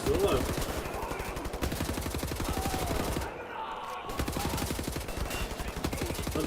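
Rapid bursts of gunfire from the video game Wolfenstein rattle almost continuously and loudly, with a brief lull in the middle before the shooting resumes.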